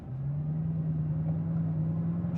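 A Bugatti Divo hums along while driving, its engine a steady low drone under a smooth rumble, close and even throughout with no speech.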